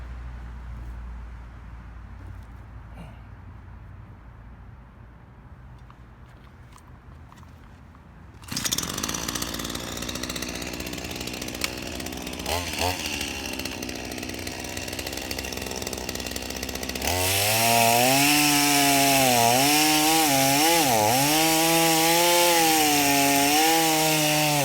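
A Ryobi 18-inch gas chainsaw cuts into a tree about 20 inches thick; quiet rustling gives way to the engine revving up, then a loud, strained, wavering whine as the chain bites into the wood.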